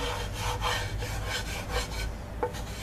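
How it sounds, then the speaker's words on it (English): A metal spatula scrapes fried bits and juices across a frying pan, a few close rasping strokes in an uneven rhythm with a short sharp clink near the end. "Scrape that up."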